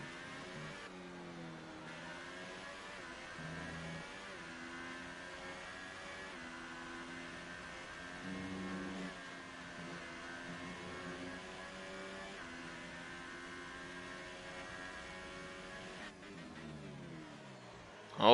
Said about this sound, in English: Why every time I want to be on board with somebody, they got the engine rev thing?